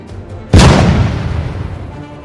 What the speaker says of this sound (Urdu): بڑا دھماکہ۔